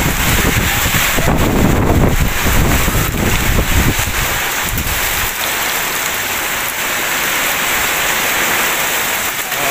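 Heavy typhoon rain pours and splashes on a road turned into a river in a flooded town, a loud unbroken roar with wind buffeting the microphone, no talking.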